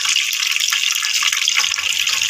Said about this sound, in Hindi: अब हम इसे निकाल लेते हैं, इसका पानी निचोड़ लेते हैं।